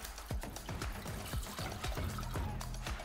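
Water is poured into a bowl of sugar, Japanese soy sauce, mirin and oyster sauce seasoning for Hiroshima oyster rice, a close, steady splashing trickle.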